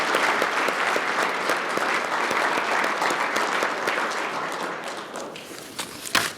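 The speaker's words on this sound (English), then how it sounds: "we'll give him a round of applause anyway" Audience applause at a chamber of commerce awards dinner, a steady round of clapping from a room full of guests, moderately loud and sustained before tapering off at the end.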